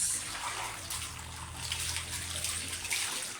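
Water from a tap filling a paint bucket in a small bathroom, a steady splashing and rushing stream heard close up without talk.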